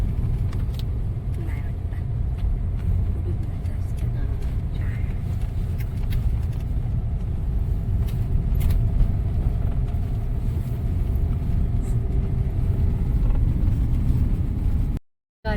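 Steady loud vehicle rumble, like a car driving or passing on a road, continuing throughout with faint voices underneath.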